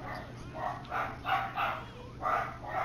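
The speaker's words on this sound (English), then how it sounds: "Why are they barking?" Dogs barking in the video game Company of Heroes 3, a series of five or six quick barks in a loose rhythm, moderately close, over a low steady background hum.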